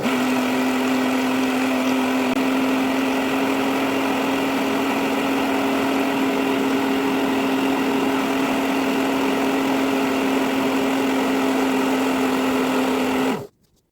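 An electric mixer whirs steadily and close, churning cream into butter, with a constant motor hum that holds level throughout before cutting off abruptly at the end.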